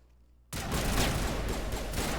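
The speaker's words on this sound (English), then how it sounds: "firing down here" Enemy gunfire in Mass Effect bursts in abruptly after a quiet moment, then sustains as a dense, loud volley of rapid shots.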